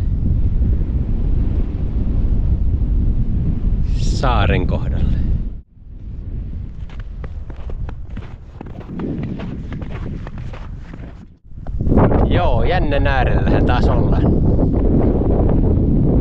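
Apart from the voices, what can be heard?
wind blowing on a frozen lake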